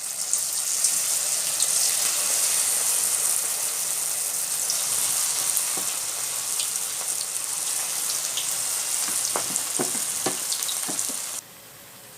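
Broccoli frying in hot oil in a pan, a dense steady sizzle with scattered crackles and a few stirring clatters, then the sizzle drops abruptly near the end; no talking.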